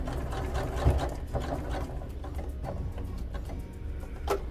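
A sewing machine stitches a zippered pocket, running forwards, reversing, then going forwards again, a fast steady mechanical whir and rattle at low volume, with no one speaking.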